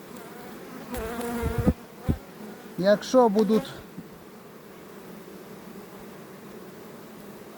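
Local honey bees buzz steadily in the background, a low insect drone under a couple of short bursts of nearby speech.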